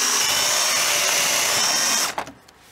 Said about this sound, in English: whenever you're drilling through siding, just get your hole started and then spin it backwards